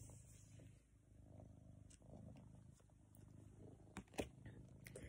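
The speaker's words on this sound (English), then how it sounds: "This cat keeps biting me and keeps getting himself caught" A cat purring softly and steadily up close, a low continuous rumble with a few small handling noises and clicks over it.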